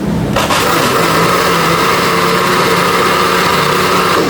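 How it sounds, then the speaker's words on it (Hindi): An electric kitchen grinder churns soaked rice with water into a coarse paste for Pakistani kheer, a loud, steady motor whir that runs unbroken from start to finish with no talking. "बस ये ग्राइंडर हो चुके हैं, मैंने इनको ग्राइंडर कर लिया है।"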